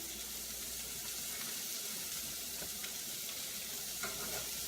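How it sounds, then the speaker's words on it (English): Bacon stirred back into caramelized Brussels sprouts with jalapeño frying in a pan: a steady, fairly quiet sizzle throughout, with a few faint scrapes and clinks of stirring near the end, and no talk. "we're going to add the bacon back in"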